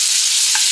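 Thawed frozen shrimp frying in a pan, a steady loud hiss of sizzling oil with a brief soft clink near the end.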